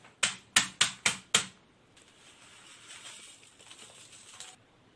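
A hammer strikes packaged noodles inside a polythene bag: five sharp, loud cracking blows in quick succession, then a softer crinkling and rustling of the bag.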